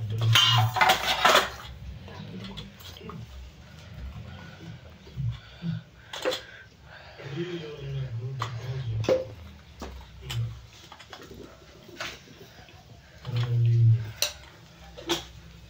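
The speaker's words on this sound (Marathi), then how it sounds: "तर इथे जिरे मोहरी तडकले आहे." Cumin and mustard seeds crackling in hot oil for a tempering for chutney, a sputtering pop and sizzle heard close amid loud clatters of a metal pan and utensils.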